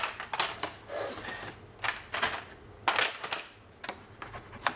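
Crisp clacking and pressing clicks from a scrapbook album's binding system being squeezed shut with small fasteners, a sequence of sharp, close mechanical snaps spaced irregularly over a few seconds with no voices.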